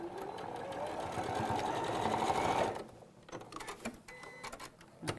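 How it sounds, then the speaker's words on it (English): A sewing machine stitches straight across a fabric edge and a scrap piece, with a fast, even mechanical whir for nearly three seconds before it stops, followed by a few quiet clicks and handling sounds. "And then we're going to sew straight across the edge."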